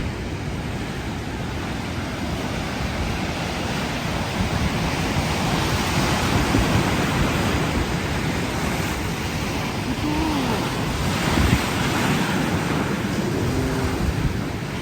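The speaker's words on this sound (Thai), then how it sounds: "คลื่นใหญ่ แต่วิวงามเนาะ" Big sea waves crash and surge in a continuous loud roar, with wind buffeting the microphone throughout.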